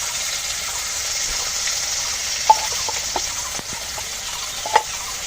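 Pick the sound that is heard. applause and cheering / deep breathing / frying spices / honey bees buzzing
frying spices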